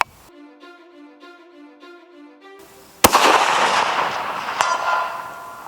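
A long-range rifle fires a single sharp, loud shot at a target midway through, with a rolling boom that decays over the next few seconds, after a quiet stretch of faint tonal beeping.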